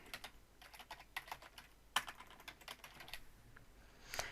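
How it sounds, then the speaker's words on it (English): A computer keyboard typing a company name into software: soft, quick, irregular key clicks at close range, with one sharper tap midway. "we're going to type the name of the company"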